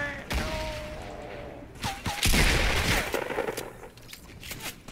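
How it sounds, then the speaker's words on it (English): Gunfire rattles through a Fortnite Battle Royale match as bursts of sharp shots and a longer volley crack close by, with thuds and scrapes mixed in and a voice speaking faintly underneath. "They're shooting me from up on the ridge."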